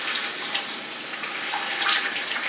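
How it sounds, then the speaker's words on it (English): Broth pours into a cooking pot of collard greens with softened onions, a steady bright splashing stream running without pause, close and moderately loud. "add your broth"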